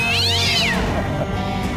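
A cat meows loudly while being held up, one long drawn-out wailing cry close to the listener, over a steady background hum.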